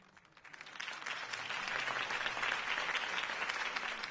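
Sustained applause from a large crowd in the video game Batman: The Telltale Series, swelling in the first moment and then holding steady and loud throughout.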